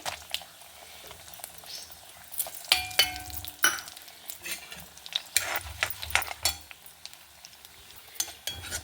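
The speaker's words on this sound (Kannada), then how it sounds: "ಒಗ್ಗರಣೆ ಸಾಮಾನು ಹಾಕಂತ ಇದೆ ಕಡಲೆಬೇಳೆ ಉದ್ದಿನಬೇಳೆ ಜೀರಿಗೆ ಸಾಸಿವೆ" Chana dal, urad dal, cumin and mustard seeds tempering in hot oil, giving soft irregular crackles and sizzles with a few stirring clinks, fairly quiet and close.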